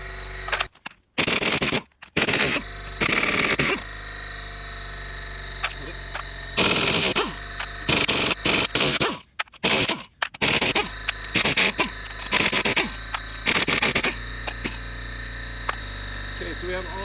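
Pneumatic impact wrench spinning lug nuts off a wheel on an EarthRoamer during a Centramatic balancer install, giving repeated loud, close rattling bursts of a second or two separated by short pauses over a steady hum.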